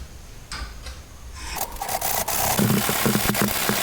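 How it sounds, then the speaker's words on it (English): A hacksaw rasps back and forth against galvanised steel in quick strokes, getting louder after a few quiet scrapes at the start. "I'm going to cut this using a hacksaw."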